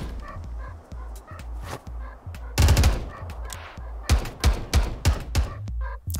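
Gunfire rings out in a multiplayer first-person shooter game: single shots at first, then louder rapid bursts of close automatic fire, with small clicks and mechanical sounds between them.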